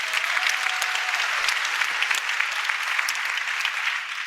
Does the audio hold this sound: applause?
yes